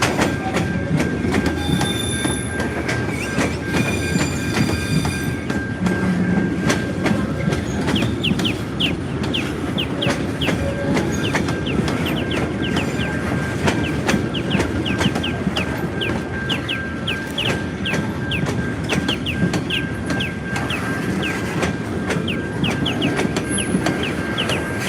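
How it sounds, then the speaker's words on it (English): A train rolls steadily past with a continuous rumble and occasional wheel squeal, while birds call and chirp repeatedly over the rail noise throughout. "hear the birds trying to compete with the train."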